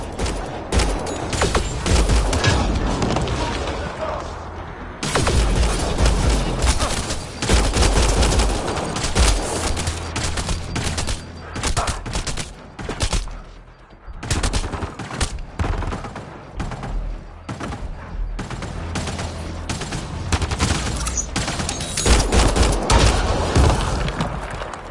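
Heavy gunfire from a firefight in the video game Mass Effect Andromeda, with loud sustained bursts and booms that run almost without pause, broken by a few short lulls.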